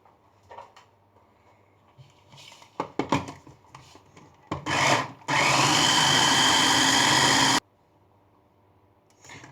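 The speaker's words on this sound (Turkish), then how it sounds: "şimdi yaklaşık 30 saniye falan blender rondodan geçirdim" A kitchen blender grinds a date-sweetened milk dessert mixture in one loud, steady whir lasting a couple of seconds, preceded by clattering and handling noises, then cut off abruptly.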